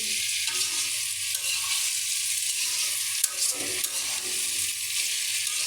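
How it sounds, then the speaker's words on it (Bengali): Potatoes fry in a pan on a gas stove, sending out a steady, bright sizzle with occasional stirring clatter, close and continuous, with no talk. "এই গ্যাসে আলুটা আমি ভাজি করছি"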